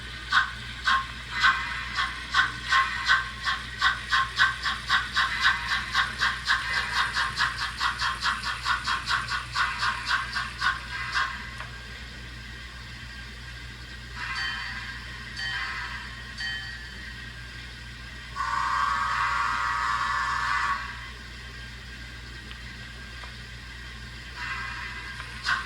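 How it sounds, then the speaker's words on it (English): A Bachmann 10-wheeler model steam locomotive runs on a track with a fast, steady rattling click that later turns to softer, intermittent whirring bursts, close and moderately loud with no talk. "This is a Bachmann 10-wheeler. Beautiful locomotive."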